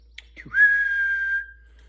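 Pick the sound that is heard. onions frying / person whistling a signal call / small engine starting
person whistling a signal call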